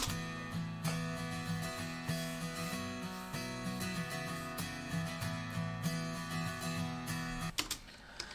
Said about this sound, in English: And we played exactly the same chords, only in a different voicing. So a little bit higher up the neck with a capo.